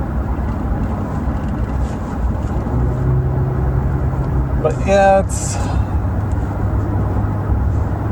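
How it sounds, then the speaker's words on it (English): Road traffic rumbles steadily from inside a car, a low continuous drone with a brief louder swell from a passing vehicle midway, while someone talks over it. "Bad traffic today."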